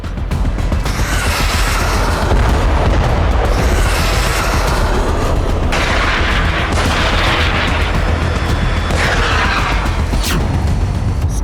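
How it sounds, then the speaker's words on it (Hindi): Explosions from a rocket attack on Tel Aviv, heard as a loud, continuous roar of booms and rumbling blasts that swell and overlap without pause. "हमास दिखा रहा दम, तेल अवीव पर रॉकेट अटैक।"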